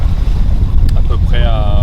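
Strong, steady 12–13 knot wind buffets the microphone over a low roar of water on a sailboat at sea in a light swell near La Graciosa, as a person talks briefly.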